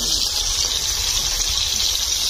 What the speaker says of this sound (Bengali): মা ভালো করে আলুগুলো ধো।